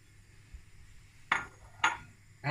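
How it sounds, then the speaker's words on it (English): Carrots tipped into a stew pot for an oven-baked curried beef stew, heard as three short clattering thumps against the pot at even spacing, close and fairly loud over a quiet kitchen. "Whack the carrots in."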